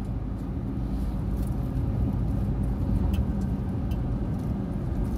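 An Isuzu 1.9 pickup with a newly replaced differential drives along a road, giving a continuous low engine and tyre rumble heard steadily from inside the cab.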